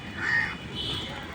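A crow perched in heavy rain by Dhanmondi Lake in Dhaka gives a single short, harsh caw that trails off over a steady background wash.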